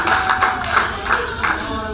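A live show audience applauds in a dense burst of clapping, loud and sustained through the full moment, with a slight hall echo.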